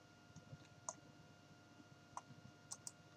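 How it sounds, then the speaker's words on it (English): A slightly wonky computer mouse wheel being clicked, a few isolated faint clicks spaced irregularly over a quiet room hum. "and then I'm clicking the mouse wheel."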